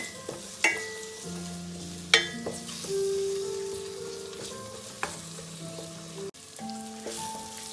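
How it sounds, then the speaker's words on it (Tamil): Steady sizzling of spices and curry leaves sautéing in a hot pan, with a few sharp clinks and scrapes of stirring breaking through now and then. "இந்த ஸ்பைசிஸை நாங்கள் வதக்கி எடுப்போம்."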